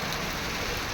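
Heavy rain pours down in a dense, loud, unbroken hiss, drumming on surfaces close by throughout, with no voices.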